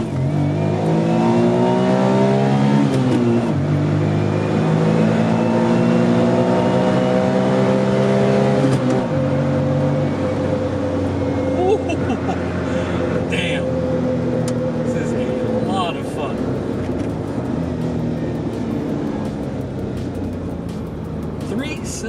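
A turbocharged Autozam AZ-1 kei sports car revs its engine up and down in loud, close, rising and falling bursts. Voices talk over the engine as it settles toward idle.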